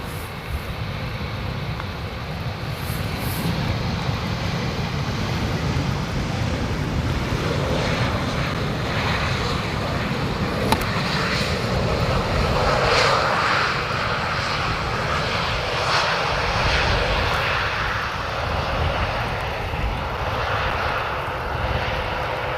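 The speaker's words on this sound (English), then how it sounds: "Touchdown by German Airways coming in from Newcastle. It's an Embraer E190." German Airways Embraer E190 jet touching down at Amsterdam Schiphol after arriving from Newcastle: a steady, broad engine and airframe roar holds throughout at fairly close range, with wind noise and no talking.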